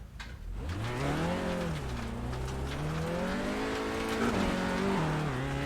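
Simulated race car engine in iRacing, loud and continuous, revving up and down through gear changes with rising and falling pitch, no talk over it.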